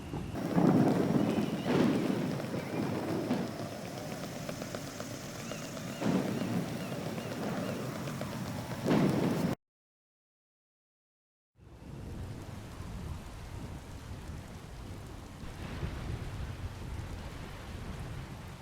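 Steady rain pours with low rumbles of thunder in a video game, cut by a brief silence before the downpour resumes, broad and enveloping.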